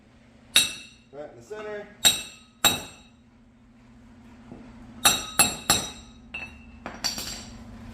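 Hammer-like reducer for a trailer hitch smacked against a suspension part on an S10 lowering-kit install, a series of sharp metallic clanks and ringing strikes, some spaced and some in quick bursts, with a brief voice speaking.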